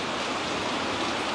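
Steady, dense rain pours without a break, a close, even hiss of falling water filling the whole moment with no voices over it.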